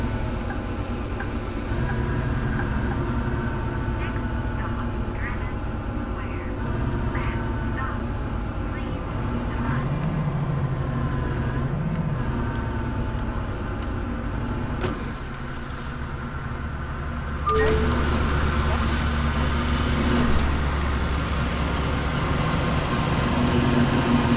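A Setra city bus in Bus Simulator 18, set in Germany, pulls into a stop with a steady engine drone, a brief air-brake hiss and a lower rumble near the end, while someone talks over it throughout.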